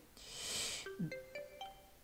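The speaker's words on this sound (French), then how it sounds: "On a les petits sons de notification, donc ça c'est vachement cool." Desktop notification sounds in the Manjaro Deepin 20 Linux desktop: a soft whooshing swell followed by a short sequence of clear chime tones, quiet and close, with no talk.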